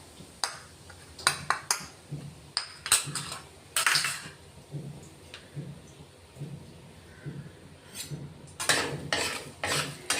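Gram flour roasting in a pan, heard as a spoon scraping and clinking against the metal in irregular bursts, fairly close, with quiet gaps between strokes and no talking.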